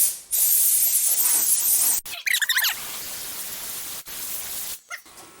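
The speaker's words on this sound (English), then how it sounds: "So I'm gonna blow the dust off" Compressed air blasts dust off an Ingersoll Rand 2475 air compressor and its intercooler in short, loud hissing bursts separated by brief pauses and clanks, with a longer spray at the start.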